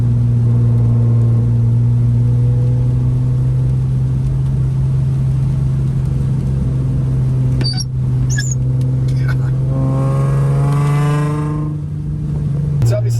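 A modified car with its rear interior pieces pulled out, its engine droning loud and steady throughout, then revs climbing with rising pitch near the end as it downshifts.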